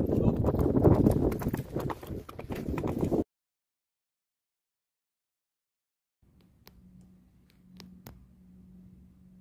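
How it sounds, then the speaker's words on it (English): Hooves of wild white Camargue horses clip-clop in short bursts under crowd noise, then quiet, then a few sharp distinct hoof clops over a low steady hum. "Wild white horses."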